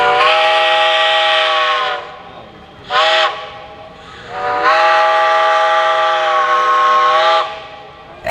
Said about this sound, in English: Having a steam locomotive here is so neat.